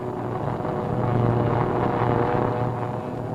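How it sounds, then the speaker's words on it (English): A continuous, loud propeller-engine drone with wind rush as World War II bombers take off from the rolling, pitching deck of an aircraft carrier, with no voices. "One of the last planes to go almost meets disaster on the takeoff from the rolling and pitching deck of the carrier."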